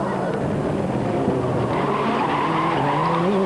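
Rally car at the 1998 San Remo WRC round, tyres skidding as it is handbraked round a hairpin, a sustained squeal over engine drone, fairly close, with commentary faint underneath.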